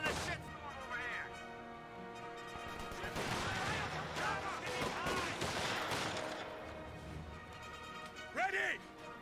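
Vickers machine gun fire in Company of Heroes 2 rattles through a dense wartime battle mix, with repeated sharp bursts and crashes running under continuous talk and game voices.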